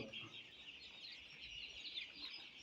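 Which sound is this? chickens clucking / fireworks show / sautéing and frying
chickens clucking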